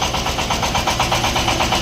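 A Shifeng 350L 35 hp tractor's engine runs at a steady idle close by, with a loud, even, rhythmic mechanical chug and no voices.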